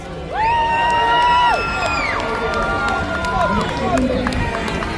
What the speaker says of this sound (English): Let's cheer for St.